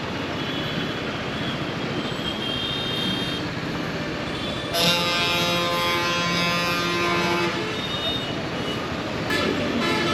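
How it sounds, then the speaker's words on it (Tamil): Dense road traffic on a motorcycle ride out of Bangalore, with a steady roar of engines and a car horn honking in repeated toots, loud and close throughout, joined by a sharper burst of horn and engine noise midway. "ஆல்ரெடி எவ்வளோ டிராஃபிக் பாருங்க."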